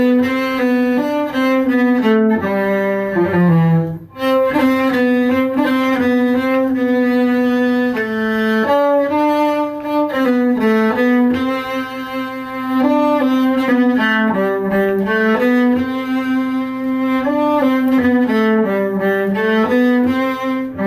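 Solo cello playing Rondo Grazioso from the Sonata in C Major, Suzuki Cello Book 4, in an irregular tempo, a steady run of bowed notes heard close and clear without any talking.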